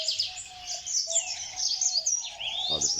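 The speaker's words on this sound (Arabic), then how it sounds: "هذا طائر البسبوس، يسمونه طائر البسبوس" Close, busy calling from a red-fronted bisbous bird in an Iraqi bird reserve: bright chirps and twittering trills over a thin sustained whistle, with a brief buzzy note near the end and no speech.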